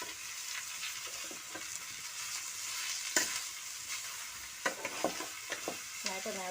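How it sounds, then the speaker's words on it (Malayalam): Beetroot curry fries in a small pan over high heat while a utensil stirs it, giving a steady close sizzle broken by repeated scraping clicks and knocks. "നന്നായിട്ട് ഇളക്കി കൊടുക്കുക."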